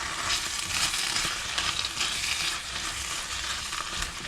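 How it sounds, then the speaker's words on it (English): Tagliatelle being stirred into a sizzling pan of chicken fajitas, with steady hissing frying and scraping, stirring noises throughout and no talk. "I'm going to mix that in, that tagliatelle"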